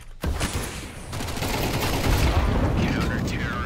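Gunfire from the CS2 shooter game, a dense burst of rapid shots soon after a sharp start, carrying on as a steady loud rattle with speech-like sounds mixed in.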